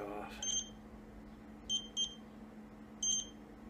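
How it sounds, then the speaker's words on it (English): A DOVPO E-Mech Transformer vape mod gives short high beeps in small groups, one, then a pair, then another, clear over a low steady hum. "I can't stand the beeping."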